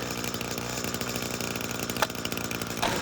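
Husqvarna-style 545 chainsaw running on full choke during a cold-start test, its two-stroke engine buzzing loud and steady with a brief rev spike near the end.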